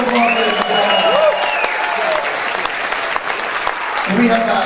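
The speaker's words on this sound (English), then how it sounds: "Give him a round of applause, ladies and gentlemen." Applause from the audience at a benefit show, a steady wash of clapping with a sustained musical tone and some voices mixed in, fairly loud throughout.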